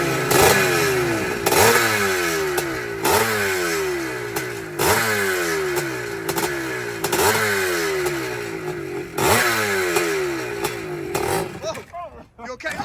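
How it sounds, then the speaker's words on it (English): A two-stroke dirt bike is kicked over again and again, each sharp crank followed by a short burst of engine that rises and dies, in a steady rhythm of about one attempt every second and a half, loud and close. "This is the way to start this 2-stroke."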